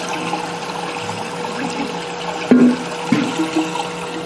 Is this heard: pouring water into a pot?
yes